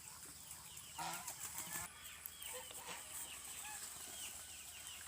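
Desi moti geese at a duck farm honk repeatedly, faint and somewhat distant, in short overlapping calls with a steady background hiss and no talk.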